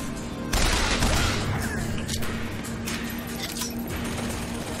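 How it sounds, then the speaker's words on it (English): Gunfire in the video game BioShock Infinite, a dense, sustained burst of shooting that starts abruptly and continues as a steady rattling wash, loud and close. "Someone shooting at me."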